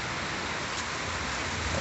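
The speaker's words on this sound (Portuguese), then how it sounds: "Aqui fora que pega a chuva." Gentle rain falls outdoors in São Paulo, a soft, even hiss of drops on surfaces that holds steady throughout, fairly faint with no voices.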